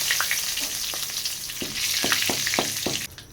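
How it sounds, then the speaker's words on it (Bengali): Nigella seeds and two bay leaves hitting hot oil in a pan, a steady loud sizzle and crackle with a few sharp pops and stirring clicks, cutting off abruptly at the end. "এই তেলের মধ্যে আমি এখন কালো জিরে আর 2টো তেজপাতা দিয়ে দেব।"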